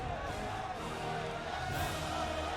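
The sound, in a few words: live esports crowd cheering at StarCraft 2 tournament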